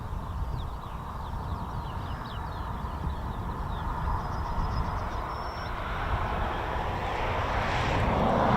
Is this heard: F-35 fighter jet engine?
yes